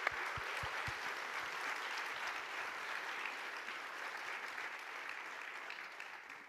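An audience at a conference on climate disinformation applauds the speakers with steady, dense clapping from start to finish, faint and a little distant in the room, with no talk over it.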